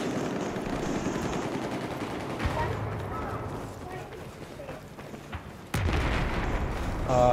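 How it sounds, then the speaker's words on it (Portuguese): Rapid bursts of video game gunfire crackle continuously, with a sharper blast near the end, while a voice talks over the shooting. "Ouvi só o tiro."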